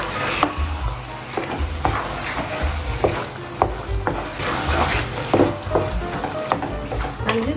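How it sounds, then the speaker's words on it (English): Eggplant sauce stirred in a sizzling pan, with regular scraping strokes of the spoon over a constant, close frying hiss. "give it a stir."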